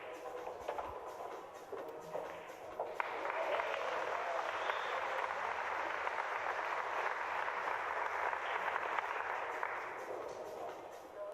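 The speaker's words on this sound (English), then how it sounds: "Sounded like another Rafael Vahl cheer from table 14" Distant cheering and applause for Rafael Vahl rise from another table at the 2023 European Open Pool Championship, a broad crowd roar swelling in and holding steady for several seconds behind the quiet hall.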